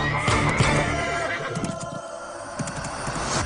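A horse whinnies amid busy film-scene background sound, with people speaking over a dense, steady mix at moderate loudness.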